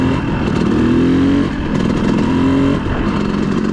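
Motorcycle engine revving during wheelie practice, a loud close whine rising in pitch twice, dipping briefly in between, with a steady engine drone underneath.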